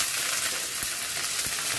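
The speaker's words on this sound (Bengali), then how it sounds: "কাঁঠালটা ছোট ছোট করে কাটা আছে এটাকেই এখন তেলের মধ্যে দিয়ে দেবো।" Small chopped pieces of jackfruit frying in hot oil for a village-style jackfruit curry, a steady dense sizzle close up with no voices.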